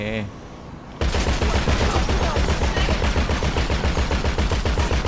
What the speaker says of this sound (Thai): เดี๋ยวผมจะลองปืนข้างบนให้ดู